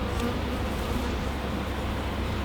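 Honeybees buzz at an open hive during a pre-winter check, a dense, even hum of many insects close around with no voices.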